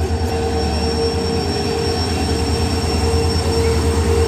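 A passenger train on an overnight journey toward Badami rolls steadily along the rails, a loud continuous rumble with a sustained high wheel squeal and faint rhythmic clatter, no voices.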